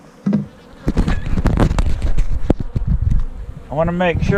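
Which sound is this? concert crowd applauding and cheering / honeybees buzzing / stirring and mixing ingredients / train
honeybees buzzing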